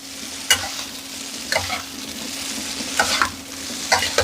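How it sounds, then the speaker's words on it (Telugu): Egg noodles with spices are stirred in a hot pan, four distinct scraping strokes spaced about a second apart over a continuous close sizzle, with no voices. "దీన్ని బాగా కలిపేసేసుకోవాలి, కలిపే దాంట్లోనే ఉంటుంది మొత్తం"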